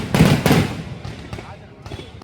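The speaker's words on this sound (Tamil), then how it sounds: "சுமார் 1 மணி நேரம் இடைவிடாது கண்கவர் வானவேடிக்கை நிகழ்த்தப்பட்டது" Fireworks burst at a birthday celebration in Sivakasi, a couple of loud booming cracks followed by fainter bangs spaced apart, heard from outdoors.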